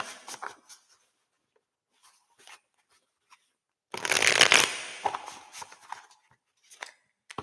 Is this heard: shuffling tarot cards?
yes